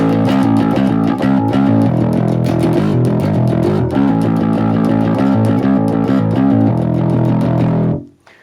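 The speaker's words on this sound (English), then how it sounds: "use a little bit of distortion on the bass." A distorted electric bass plays a steady, gritty riff with sustained low notes, loud and continuous before cutting off abruptly at the end.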